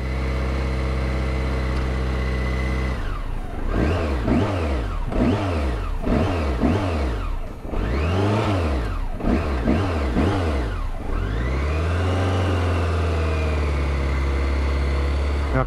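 A BMW K1 motorcycle engine revs repeatedly while riding, rising and falling in a series of loud, close throttle swells after a steady idle, then settling back toward a low idle.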